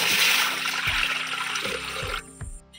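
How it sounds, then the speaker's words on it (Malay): Water is poured into a cooking wok over a lit flame while making glutinous rice with pandan leaves, a steady splashing hiss that stops abruptly near the end, with faint low thumps underneath. "kita masukkan air secukup aja."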